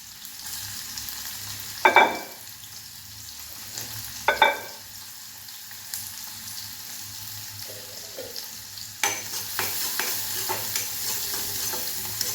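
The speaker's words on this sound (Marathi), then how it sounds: "आणि मग लगेचच हा कांदा पण आपण घालून घेऊया गरम झालं आहे तेल" Onion sizzling in hot oil in a pan, a continuous low crackle broken by two sharp stirring clatters early on, then louder, busier frying and scraping toward the end, no voices.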